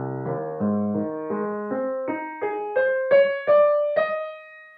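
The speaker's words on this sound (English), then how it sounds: "It begins in the cellos, and they have a solo section" Solo cellos play the opening of the Offertory from Verdi's Requiem, a slow line climbing steadily from low to high register in sustained bowed notes, each swelling gently, with no voices.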